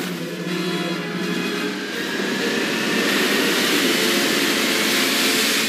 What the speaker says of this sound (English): Start the engines and get us out of here!